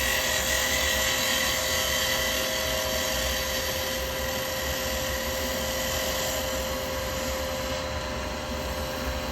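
A woodturning tool cutting end grain on a spinning lathe, a loud continuous whirring drone with a steady tonal hum, unbroken throughout.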